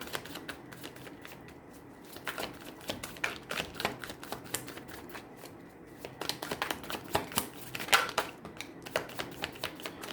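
A deck of tarot cards being shuffled by hand up close, with rapid riffling bursts of crisp card flicks that pause briefly and resume, filling most of the stretch with a soft papery clatter.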